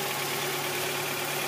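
A 1992 Mazda Miata NA engine idles with the ignition timing advanced, giving a steady, fairly loud hum with a constant low tone and no variation or voices over the short stretch.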